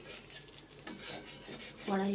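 Scraping and scrubbing of a kadai wok, a steady raspy rubbing in repeated strokes at close range, with a louder grinding scrape at the end and no talk.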